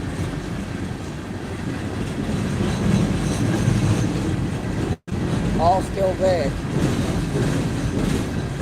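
A freight train rumbles past on the nearest track at a crossing, a steady close roar with clattering wheels throughout and a faint squeal late on, while someone speaks briefly over it.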